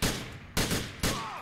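Three heavy gunshots ring out at even intervals in GTA 4, each with a long echoing tail, loud and close with no voices.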